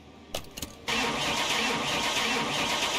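A car engine cranks in Car Mechanic Simulator 21 with a few short starter bursts, then catches on the dyno and settles into a steady, loud, close idle that holds to the end.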